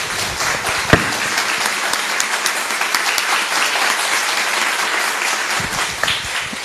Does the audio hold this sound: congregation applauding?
yes